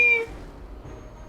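A cartoonish cat in Final Fantasy XIV: Dawntrail gives one brief, tonal meow at the very start, and then only soft game ambience continues.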